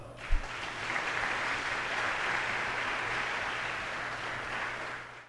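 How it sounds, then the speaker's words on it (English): An audience at an organ recital applauds with sustained, even clapping that fills the hall for about five seconds and fades slightly at the end, with no voices. "Another round of applause."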